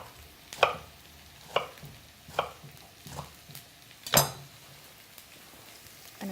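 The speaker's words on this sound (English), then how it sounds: "we can just roughly cube the aubergine" A knife roughly cubing aubergine on a board, about six sharp, evenly spaced chops close by, with quiet kitchen handling between them.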